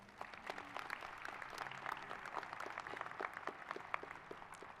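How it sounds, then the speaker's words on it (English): Applause from a commencement ceremony audience fills the space with steady, dense clapping of moderate loudness, carrying on evenly without voices on top. "Let's give them a round of applause."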